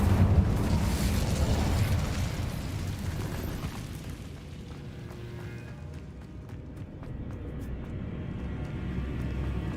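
Incendio fire spell cast in Hogwarts Legacy, heard as a roaring, crackling burst of flame that swells loudly at first and then fades into quieter game ambience with faint clicks.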